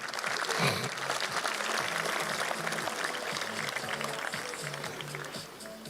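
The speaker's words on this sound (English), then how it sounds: "last round of applause for these boys" Crowd applause at a Sharks high schools rugby capping ceremony honouring a group of boys, a sustained broad wash of clapping at steady loudness that eases off slightly toward the end, with some voices mixed in.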